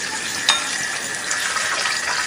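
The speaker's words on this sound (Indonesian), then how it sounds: "bandeng itu kalau digoreng itu meletup-meletup banget" Milkfish fries in hot oil with a dense, steady sizzle and a sharp pop near the start, the crackle continuing loud and close without any talking.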